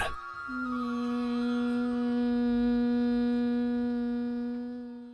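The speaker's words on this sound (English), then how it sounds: "As you exhale, make a deep and steady humming sound." A deep, steady humming exhale from Bhramari pranayama yoga breathing, one long sustained low tone that swells and then fades, heard alone.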